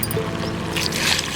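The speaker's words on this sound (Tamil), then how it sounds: "தண்ணி ஊற்றிக்கிறேன்" Water is poured into a hot pan of sautéed tomatoes and onions for idli sambar made without dal. A steady, close rush of pouring and hissing grows toward the end.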